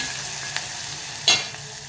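Onion and potato sautéing in a pan, a low continuous sizzle with a couple of short stirring clatters, one louder scrape near the middle.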